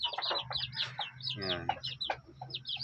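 One-month-old chicks in a breeding pen give rapid, close, high-pitched peeps and clucks in quick bursts, while a person speaks briefly over them.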